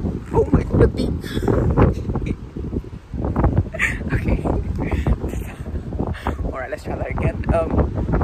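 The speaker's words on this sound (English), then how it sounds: "it's a windy day" Wind blowing at the beach by Brighton's Palace Pier buffets the microphone with heavy low rumbling gusts, close and loud throughout, while someone talks over it.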